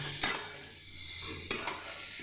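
Chicken being stirred with a little salt in a hot pan for a chicken spring roll filling: a steady soft sizzle with a few sharp scrapes of the spatula against the pan, close and alone with no talk.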